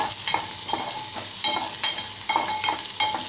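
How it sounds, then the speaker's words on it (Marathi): Onion and green chili mixture sautéing in hot oil, a steady close sizzle with a soft stirring scrape roughly every half second and no voices. "आता हे मिश्रण आपण व्यवस्थित एकजीव करून परतून घेऊया तेलात"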